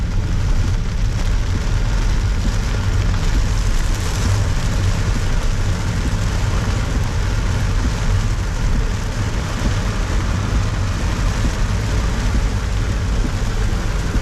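Heavy rain pours down at night while driving through Macau, a loud, steady, dense roar of rain hammering the car with a low rumbling undertone throughout and no talking.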